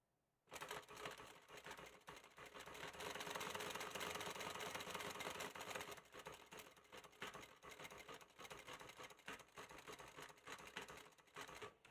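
A Rosanne sewing machine stitches fabric in a long continuous run, its fast mechanical whir steady and close, slowing slightly partway through, with no talking.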